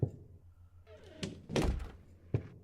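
A door opening in the video game Dreams, heard as several distinct thunks and clunks that build to a louder burst of movement in the middle, with a final sharp knock-like hit, all close and without speech.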